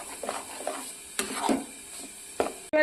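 A spoon stirs and mixes spice paste in a pan for prawn malai curry, making a few scraping strokes over a faint background sizzle, with no talking.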